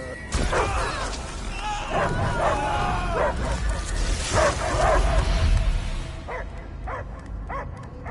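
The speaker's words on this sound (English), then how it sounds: "I hear only barking." Dog barking and yipping in the Guardians of the Galaxy video game, repeated sharp barks mixed with crashing game effects and voices, fairly loud, tapering into sparser barks toward the end.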